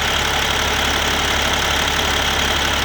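A used semi truck's high-mileage engine, never rebuilt and nearing 800,000 miles, idles close by with a steady, even rumble and no other sounds.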